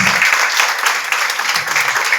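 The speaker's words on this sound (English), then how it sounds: "Please give a round of applause." An audience at a school conference gives a round of applause, a loud, continuous, even patter of many hands clapping.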